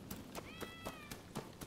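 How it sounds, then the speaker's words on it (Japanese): Several short meows from a cat in the samurai action game Rise of the Ronin, repeating at a steady rhythm of roughly four per second, moderately faint over a quiet ambient backdrop. "猫が鳴いております。"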